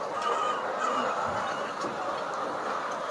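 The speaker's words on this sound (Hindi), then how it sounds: "देखा, मुर्गी आ रही है पीछे से।" Many poultry-farm chickens cluck and murmur together in a busy, continuous chorus, fairly loud and close, with no speech.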